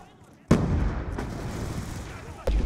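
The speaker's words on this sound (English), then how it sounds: "I think someone is using a grenade launcher." Grenade launcher rounds from Call of Duty Black Ops 2 land in two heavy blasts, the first a loud boom with a long rumbling tail and a second hit near the end, amid game noise.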